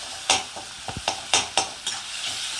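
Tomatoes sautéing in a pan for prawn thokku, a low sizzle broken by several sharp spoon scrapes and taps against the pan at an uneven rhythm, close and without talk.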